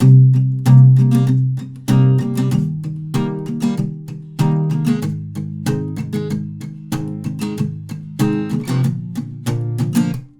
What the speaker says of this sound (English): So palm muted, the chord progression sounds like this.